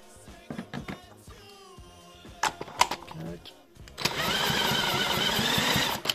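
A moped engine on an MBK 51 fitted with a Peugeot CDI ignition and coil catches after a few clattering attempts and bangs, then settles into a loud, steady buzzing run.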